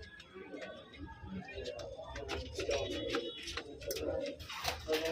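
Pigeons, including a spotless white Malwai hen pigeon, coo softly and repeatedly at close range amid scattered bird calls, with someone talking over them throughout.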